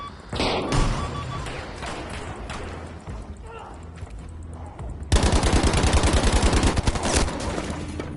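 Gunfire in the video game Battlefield V: scattered shots and thumps at first, then a loud, rapid machine-gun burst of repeated reports, with game voices heard in the mix.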